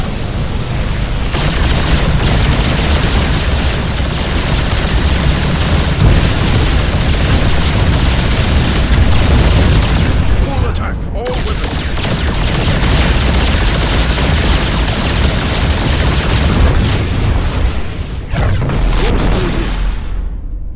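Heavy orbital bombardment in StarCraft II, a relentless wall of loud, rumbling explosions and booms sustained for about twenty seconds, with a brief break partway through and a sharp blast near the end.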